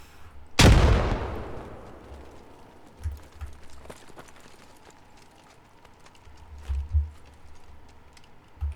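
A video-game grenade training course sends out one loud, close frag explosion with a long rumbling decay, followed by softer, more distant low thumps from further grenade blasts.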